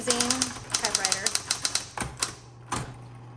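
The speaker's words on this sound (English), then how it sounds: "Okay, so this is an amazing typewriter." A repainted Smith Corona Coronet Electric 12 electric typewriter types a fast, even run of crisp key strikes, then a few slower strikes, close and loud, with a voice briefly heard over the start.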